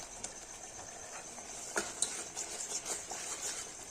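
Spinach puree goes into a pan of chana palak masala and gets stirred, with soft scraping and a faint background sizzle broken by a few sharp clinks of a utensil against the pan.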